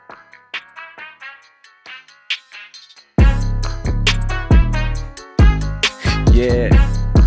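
A Latin beat in a reggaeton style opens with a thin, filtered percussion pattern. The auto filter then switches off, and the full beat enters loud with heavy bass hits and a steady syncopated rhythm.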